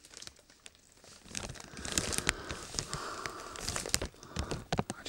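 Plastic and cardboard packaging of a Roborock S6 robot vacuum crinkles and tears during unboxing, a steady run of close rustling and crumpling that grows busier and louder after the first second, with no talking.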